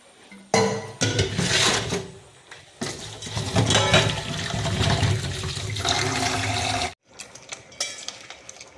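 Lentils are washed under running water in a kitchen sink, with a loud gushing stream that starts and stops, plus clinks from the vessel being handled and no talk.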